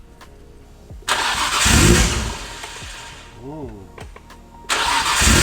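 A Nissan R34 GTR engine fires for the first time, cranking then catching with loud bursts of revving that fade to a rough idle before another surge, while a person briefly exclaims.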